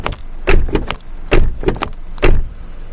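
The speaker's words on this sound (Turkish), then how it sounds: "yani kapı sesine bir bakalım." Car doors on a Citroen C3 Aircross crossover being handled, with several sharp latch clunks and thumps spaced through the clip, close and fairly loud, with no talking.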